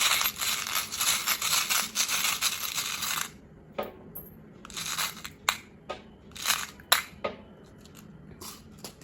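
Small metal charms clink and rustle as they are handled, first in a steady jangling stretch, then in scattered sharp taps and clicks, close by.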